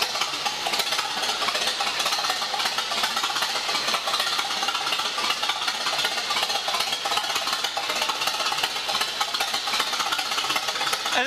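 A Winton diesel engine idles steadily at close range, a continuous rattling burble with even rhythmic knocking and no voices.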